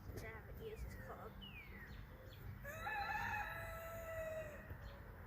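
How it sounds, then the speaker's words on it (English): A rooster crows from a distance on an outdoor golf range, its drawn-out call rising over steady background noise, with a voice heard faintly at the start. "Don't mind the chicken."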